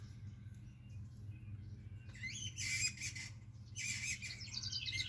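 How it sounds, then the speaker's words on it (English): An unfamiliar bird squeaks outdoors in two short bursts of high, rising squeaky chirps, moderately close, over a steady low hum with no talk. "that weird bird squeaking right there, I've never heard that before"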